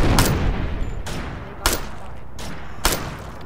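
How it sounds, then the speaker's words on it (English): Gunshots in State of Decay: four loud, sharp reports spaced about a second apart, each ringing out over a steady background hum, with no talking. "Three shots."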